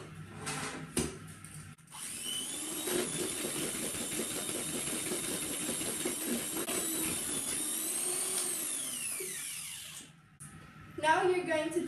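An electric mixer whirs steadily for several seconds as it beats cake batter in a bowl covered by a lid with a hole, starting and stopping abruptly, with brief clatter at the ends.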